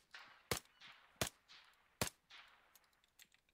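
Gunfire in Arma 3 during a squad operation: sharp single shots spaced about three-quarters of a second apart, each followed by a trailing echo, with fainter distant pops after, fairly quiet overall.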